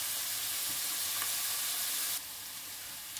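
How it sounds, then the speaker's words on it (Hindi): Sliced onions fry in hot oil for a potato egg curry, making a steady, close, dense sizzle that drops slightly in level near the end. "इस ऑनियन को हम अच्छे से फ्राई कर लेंगे।"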